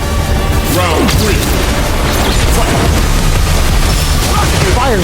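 A fighting-game overdrive special move from a C.Viper versus Terry match erupts as a loud, continuous barrage of booming impacts and swooping effects. An energetic commentator talks over it.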